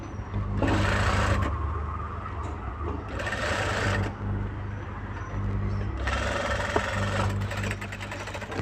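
A sewing machine stitches a hook strip on a blouse in steady rhythmic runs, with short pauses between bursts of needle chatter, close and fairly loud.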